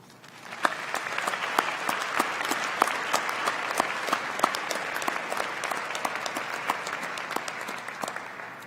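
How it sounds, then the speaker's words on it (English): Audience applause at a college of pharmacy and health sciences commencement ceremony, steady dense clapping from a large crowd that starts abruptly and continues for several seconds. "Let's take a moment to give them a round of applause"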